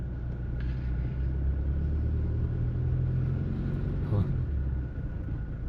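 A dirt-hauling truck rumbles past close by with a steady low engine drone that swells a little and then fades slightly at the end. A voice can be heard faintly underneath.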